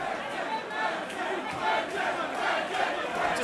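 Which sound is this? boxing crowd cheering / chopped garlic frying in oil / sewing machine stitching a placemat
boxing crowd cheering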